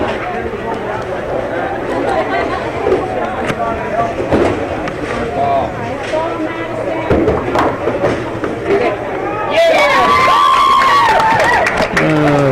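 A crowd at a bowling match cheers after a player picks up a spare, a burst of cheering and excited voices rising near the end over steady alley chatter and rumbling background noise.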